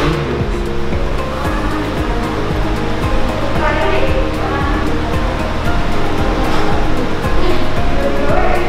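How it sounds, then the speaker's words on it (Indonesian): Laboratory glassware is rinsed with potassium permanganate titrant solution, producing a loud, continuous rushing and sloshing of liquid that holds steady throughout. "Setelah dibilas dengan aquades, kemudian dibilas dengan kalium permanganat atau larutan titerannya."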